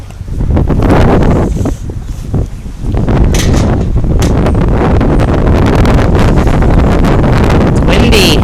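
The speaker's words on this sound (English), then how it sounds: "It's windy." Strong gusty wind buffets a microphone outdoors in a backyard chicken run, a loud continuous roar with a brief lull near the three-second mark, and talk comes through beneath it.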